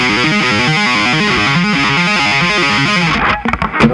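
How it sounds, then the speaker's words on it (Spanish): Electric guitar with heavy distortion plays a song intro, a fast, continuous stream of saturated notes that stays loud and dense before cutting off into a few choppy fragments at the end. "Harta distorsión, ocupen harta distorsión."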